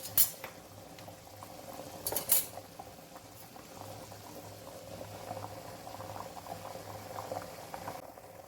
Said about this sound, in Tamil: இப்போ நான் ஒரு 3லேருந்து 4 நிமிஷம் மூடி கொதிக்க விட்டுக்கிறேன்